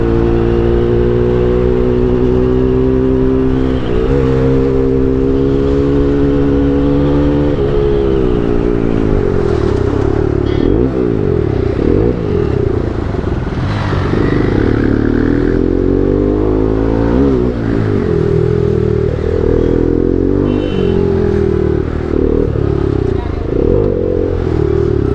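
A Bajaj NS200 motorcycle fitted with an Akrapovic full-system exhaust roars loudly and continuously as the revs climb, drop and sweep up again while riding, with a voice talking over the engine at times.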